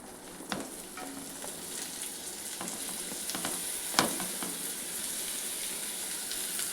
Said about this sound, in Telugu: ఇప్పుడు ఇందులో మనం ఈ ఆకాకరకాయ ముక్కల్ని వేసేసుకోవాలి.